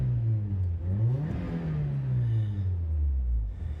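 1987 Toyota Corolla FX16 engine revving through a Total Flow muffler, a deep exhaust note that rises in one sharp blip and then falls back slowly to idle, loud and close.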